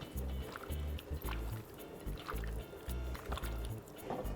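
A spoon stirs peach cobbler filling thickened with arrowroot and vanilla, thick wet slopping and scraping strokes repeating in a steady rhythm, quiet and close.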